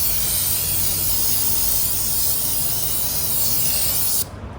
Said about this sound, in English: I ran out of parts cleaner, but I have some carb cleaner.